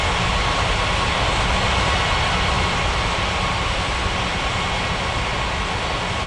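Airliner landing on runway 35 right at Capeville City International in the video game Unmatched Air Traffic Control, a loud, continuous engine roar holding steady before cutting off abruptly at the end.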